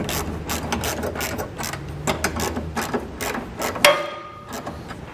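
A 19 mm socket ratchet snugs up hitch hardware while an EcoHitch hidden trailer hitch is installed on a 2014 Toyota Prius v. Close, rapid ratchet clicks run in bursts, ending with a sharper metallic clank.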